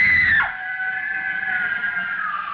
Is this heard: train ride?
no